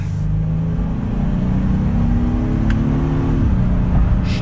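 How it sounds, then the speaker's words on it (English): A 2022 Honda Passport Trailsport in sport mode and third gear accelerates, its engine drone rising steadily in pitch before easing off, heard from inside the cabin over road noise. "We're down to third gear. We'll do one more acceleration."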